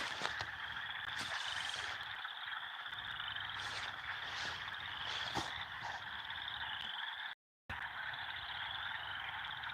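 A dense chorus of frogs croaks steadily, layered trilling calls overlapping without pause, with a brief dropout near the end.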